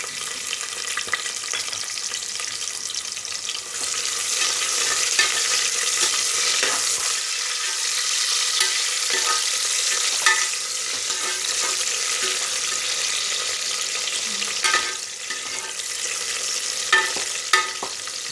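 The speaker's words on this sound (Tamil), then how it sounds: "அது பொரிஞ்சோன்னு நம்ம கட் பண்ணி வச்சுருக்க ஒரு பெரிய வெங்காயத்தை போட்டுக்கலாம்." Chopped large onion frying in hot oil for pudina (mint) rice, a steady bright sizzle with occasional stirring clatter, close and continuous with no talking.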